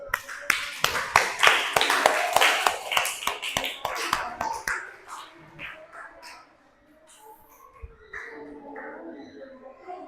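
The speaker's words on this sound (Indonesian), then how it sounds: "kasih aplaus" Classroom applause from a group of students, a dense burst of claps for about five seconds that thins into scattered claps and fades, followed by quieter room noise.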